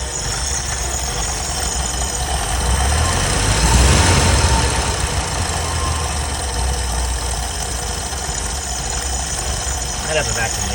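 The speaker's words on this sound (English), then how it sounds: "Alright, she's idling a little low." Low idle of a 1979 Ford service truck engine with 46,000 original miles, a steady rumble throughout with a slight swell near the middle; a possible vacuum leak keeps the idle low.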